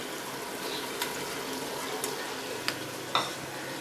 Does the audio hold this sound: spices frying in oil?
yes